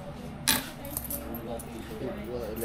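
Coins are counted out by hand, a sharp metallic clink followed by scattered lighter jingles and taps, near and moderately loud over a steady background hum.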